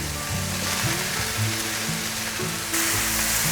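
Taro tossed into a hot pan with rice and stir-fried, giving a steady close sizzle with soft scraping of the spatula, brightening into a louder hiss near the end.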